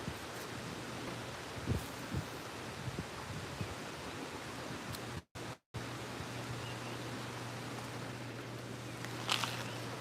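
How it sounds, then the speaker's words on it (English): Wind gusting outdoors at Plymouth pond, a steady broadband rush with soft rustling swells and a brief dropout midway. "As long as that wind keeps blowing"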